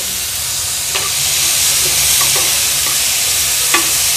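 Matki (moth beans) sauté in a pan with a loud, continuous close sizzle, while a spoon scrapes and clinks against the pan a few times.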